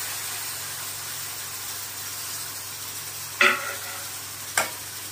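Chopped tomatoes and onions sizzling steadily in a pan for an egg curry, a soft continuous fry hiss broken by two sharp utensil knocks near the end.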